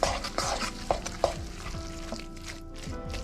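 Sweet corn and courgette fritter batter with flour being stirred in a bowl, with a few sharp spoon knocks near the start, then steady scraping over a sizzling pan in the background.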